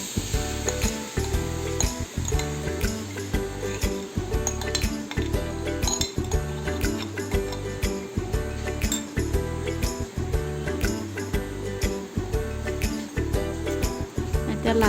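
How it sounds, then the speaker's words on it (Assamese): A spoon is pushed through coconut ladoo mixture in a wok, a Bihu sweet being cooked, making steady rhythmic scrapes and metallic clinks, stroke after stroke with no voice over it. "এতিয়া লাহে লাহে লৰাই থাকিব লাগিব যাতে তলত নালাগে"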